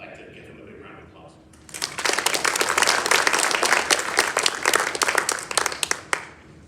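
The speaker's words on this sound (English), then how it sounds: "So I'd like to give him a big round of applause." An audience bursts into loud, sustained applause for an award-winning student of an online program. Quiet room noise comes first, then dense clapping rises and carries on steadily, tapering with a few last claps.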